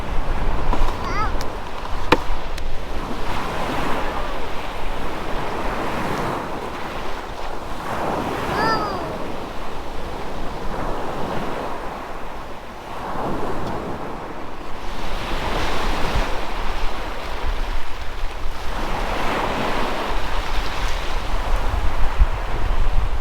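Ocean surf rolls onto a Baja California beach in repeated swells, each wave building and washing out in a broad roar, with wind buffeting the microphone and faint voices in the background.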